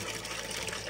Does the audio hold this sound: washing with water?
yes